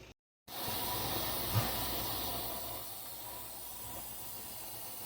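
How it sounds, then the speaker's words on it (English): A steady, loud hiss of steam escaping from a T-Fal pressure canner runs continuously after a brief silent gap at the start. "I have a good head of steam started."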